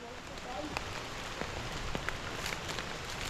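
Rain falls in a steady, soft hiss with scattered louder drops pattering nearby on an outdoor brush-clearing site, faint and close, with a few background voices.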